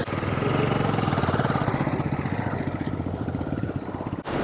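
A motorcycle engine runs steadily on a narrow footpath, a fast rhythmic mid-pitched chugging throbbing close by, with a brief dip near the end and no talking.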